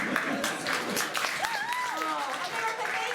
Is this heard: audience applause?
yes